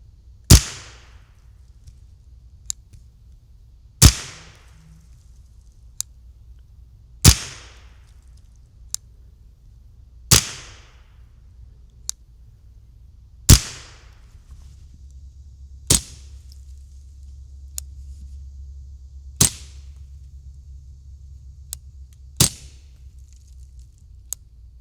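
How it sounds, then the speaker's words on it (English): Shots from a suppressed Spikes Tactical XS Hunter and an unsuppressed Ruger 10/22, both .22LR rifles, fired outdoors: sharp, loud cracks roughly every three seconds, with quieter pops between them. "I did a direct comparison of the Spikes Tactical XS Hunter rifle to my old school unsuppressed"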